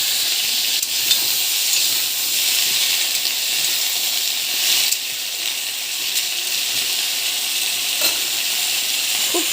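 Water lily stems fry in a pan with a steady, loud sizzle and hiss, continuous and close throughout with a few brief spikes and no talking.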